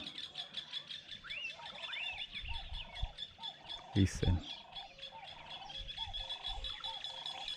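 Repeated chirping and whistled morning birdsong rises from open African bush, with one short spoken word and a brief thump partway through.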